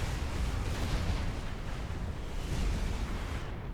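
Heavy Gauss cannon fire in the real-time strategy game Supreme Commander 2, a dense continuous rumble of booming blasts that holds steady and loud throughout with no voices.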